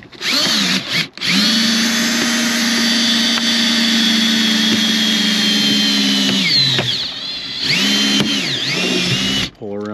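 A power drill runs almost nonstop during windshield removal on a 2021 Subaru Forester, a loud steady whine with brief dips and pitch bends near the end as the tool slows and restarts.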